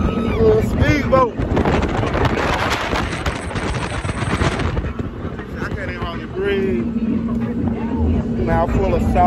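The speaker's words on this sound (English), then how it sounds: "we on this speedboat" Speedboat engine droning over splashing water and heavy wind buffeting, loud and close, while people talk and shout over the roar.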